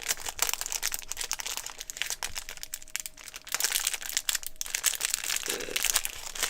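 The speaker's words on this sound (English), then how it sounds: "I'm just gonna unwrap this." A package being unwrapped at close range, with bursts of crinkling and rustling plastic wrapper in irregular handling sounds, fairly quiet and with no talk over it.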